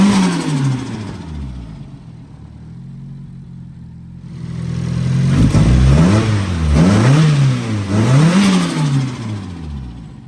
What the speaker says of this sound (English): I love the TD06 when it surges, flutters like that